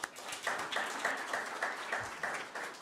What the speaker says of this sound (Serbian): Aplauz za profesora Čerovića.